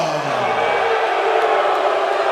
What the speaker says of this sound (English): they are just as loud booing Matt Cardona, former Game Changer Wrestling champion